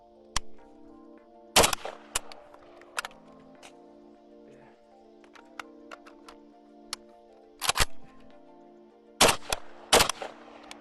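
An AK19 5.56 rifle fires several test shots, loud sharp reports in ones and pairs spread across the stretch, with mechanical clacks between them and a steady hum underneath, no talking.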